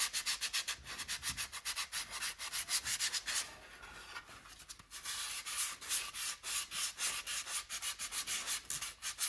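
Hand sanding of a carved wooden drake pintail duck decoy, rhythmic back-and-forth rubbing strokes of abrasive on wood, close and steady with a short pause midway.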